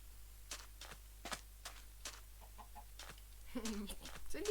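A Minecraft chicken gives faint, soft clucks, several short calls spread irregularly over a quiet, steady background hum.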